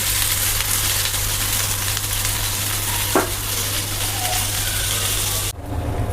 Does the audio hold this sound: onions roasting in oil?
yes